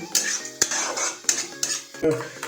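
Chicken with coriander is stirred in a metal pot, a spoon knocking and scraping against the sides in repeated sharp clanks roughly every half second, close and loud, over a faint sizzle.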